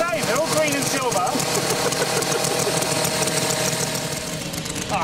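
Small glow or gas engine on a Ki-43 Oscar model airplane runs loud and close, a buzzing drone that holds steady throughout, with a person speaking over it.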